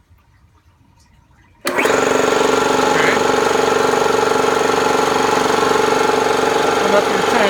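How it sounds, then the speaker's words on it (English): A Bauer breathing-air compressor starts abruptly and then runs loud and steady, a dense continuous mechanical drone with rapid rhythmic pulsing. A short spoken word comes just before it kicks in, over quiet room noise. "So now to start compressing, we'll start the compressor."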